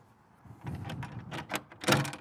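Camper door being opened, a few quick clacks and a rattling scrape of latch and hatch, close by and fairly soft.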